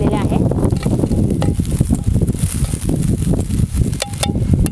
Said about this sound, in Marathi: आपल्याला कांदा घालून यांना असं परतून घ्यायचं आहे